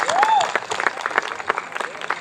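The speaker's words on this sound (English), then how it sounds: "we want to give a round of applause for our local candidates that have already spoken this afternoon" A brief round of crowd applause for local candidates at a county Republican rally, scattered clapping with a voice speaking over it.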